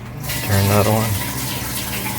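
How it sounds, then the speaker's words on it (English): Water gushes steadily into a washing machine just after its inlet filter screen has been cleaned, a close, loud rushing fill, with a brief spoken phrase at the start. "Let's go ahead and run some water and see how this is."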